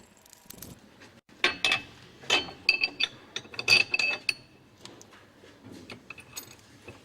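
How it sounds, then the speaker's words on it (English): Metal clamping assemblies for a caravan mover are loosely bolted to a caravan chassis, giving a close, quiet series of irregular clinks, ratchet clicks and metallic taps with short pauses between. "Loosely fit the two clamping assemblies to the chassis. Use the bolts provided."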